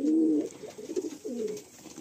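A pigeon with a fine head shape, offered for sale, gives a few close, deep throaty coos with short gaps between phrases, heard alone.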